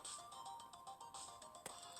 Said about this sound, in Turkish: Telefon çalıyor arkadaşlar.